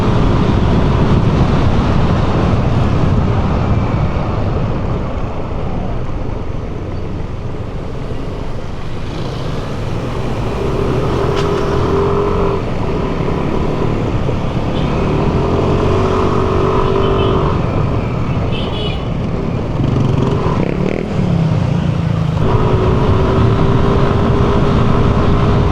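A 2026 Yamaha Lexi 155 scooter with a 155cc VVA engine pulls away and accelerates, its loud continuous engine drone rising in pitch in repeated surges over steady road and wind noise, with no talk.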